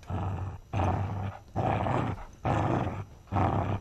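A dog monster in the Backrooms video game growls in five loud, rough, rhythmic bursts, each about half a second long with short pauses between, and no one talks.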